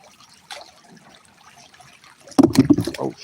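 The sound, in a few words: vape falling into stream water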